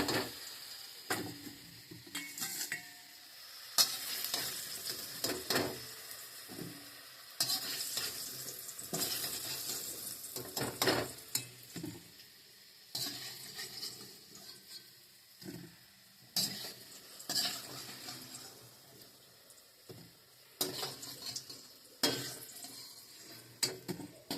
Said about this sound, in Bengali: বন্ধুরা দেখুন আলুগুলো সব ভাজা হয়ে গেছে আলুগুলো আমি সব তুলে দিচ্ছি